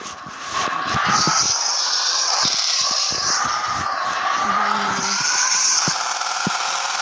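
A car on summer tires skidding, with a sustained tire squeal rising and falling over engine noise and scattered knocks, fairly loud and close, no talking.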